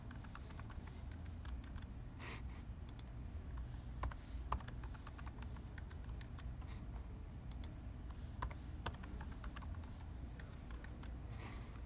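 Passwords typed on a computer keyboard while installing VMware vCenter Operations Manager 5.0, a soft, irregular run of quiet key clicks over low background hum.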